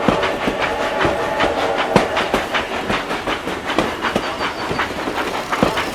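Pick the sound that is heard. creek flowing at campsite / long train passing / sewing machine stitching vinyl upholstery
long train passing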